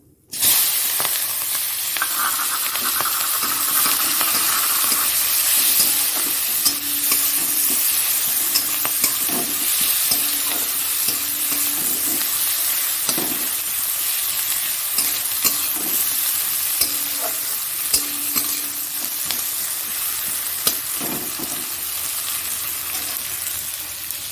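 Sliced onions and green chillies fry with cumin in a pan after fish has been fried in the same oil, giving a steady loud sizzle with occasional stirring scrapes throughout.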